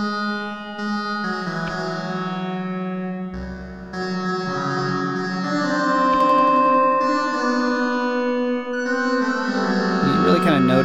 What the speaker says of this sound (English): going from delay into reverb to reverb into delay